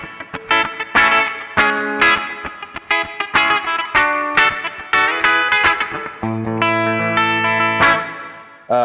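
Clean electric guitar through a Line 6 Helix Jazz Rivet 120 amp model with a Kinky Boost and a 2x12 Mandarin cab, picked notes and chords with a shimmering chorus-like sheen, close and clear with no talking.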